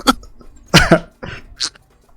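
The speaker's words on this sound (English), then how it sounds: "she just kind of like coughs into her drink" A woman coughs hard after choking on a drink, four close, harsh coughs in uneven bursts separated by short pauses.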